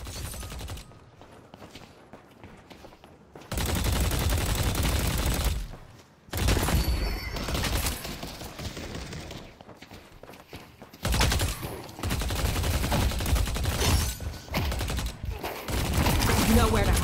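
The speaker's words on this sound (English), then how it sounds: "How many shots does this mini shotgun have, for Christ's sake?" Mini shotgun fire in the video game Deadlock, loud bursts of gunfire in several clusters over a noisy game mix, separated by quieter stretches.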